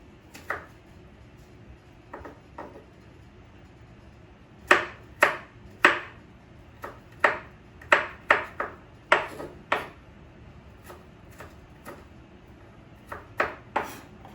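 Garlic is chopped with a knife on a cutting board for homemade pizza sauce, producing crisp, irregular taps, some in quick bursts and others spaced out, in a quiet kitchen.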